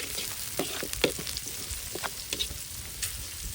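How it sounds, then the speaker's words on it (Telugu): Onions with turmeric fry in a pan, giving a soft continuous sizzle with scattered scraping stirs and small pops, quiet and close. "ఈ మాత్రం గోల్డెన్ బ్రౌన్ కలర్ వచ్చేంత వరకు బాగా వేయించుకోవాలి."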